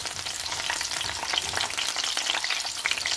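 Sliced onion, green chili and ginger sizzle in hot oil for a potato bhaji, a bright, continuous crackle heard up close and alone.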